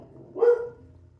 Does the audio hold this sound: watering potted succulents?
no